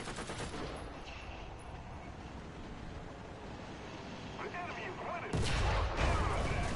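Tank gunfire traded back and forth in the War Thunder video game, with dense booming shots over a constant loud rumble and a heavier blast near the end.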